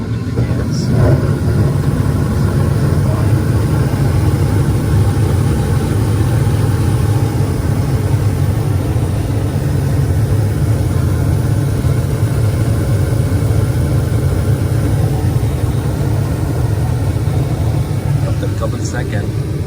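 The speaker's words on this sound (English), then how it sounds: "you will hear click again, and the fan will be running." Gas furnace with its burner lit and blower fan running, a steady loud broadband roar and hum with a strong low rumble, continuous and unchanging throughout.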